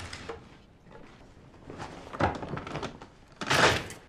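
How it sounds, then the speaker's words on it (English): A door opening in a scene from the TV show The Last of Us, heard as a series of soft thunks and rattles that build to a louder knock near the end, with no voices. "But there's a willy-nilly opening of the door."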